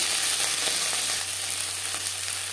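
Food stirred in a pan of mustard oil over a low to medium flame gives a steady, loud, close sizzle with a faint low hum beneath, and no voices.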